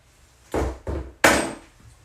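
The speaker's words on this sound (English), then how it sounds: "When in doubt, hit it with a hammer." A hammer strikes a workpiece three times at close range, each blow a sharp, loud knock with a short ring, the last hit the hardest, in a quiet room.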